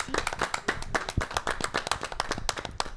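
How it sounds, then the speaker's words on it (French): Studio audience applauding a guest on an auto-moto television program; a small crowd of distinct, sharp claps in quick irregular rhythm, close and lively, with no talking on top. "on peut l'applaudir"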